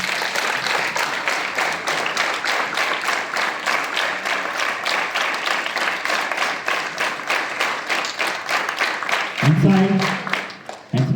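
Students at a school assembly clap their hands in unison during a drill, a long run of sharp, evenly spaced claps, with a voice calling out briefly near the end.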